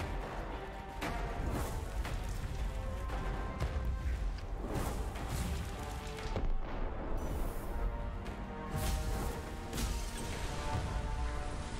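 Tower firing at the player in the fantasy game Fictorum, a run of loud booming shots and crashes repeating over a dense rumbling battle din, no talk.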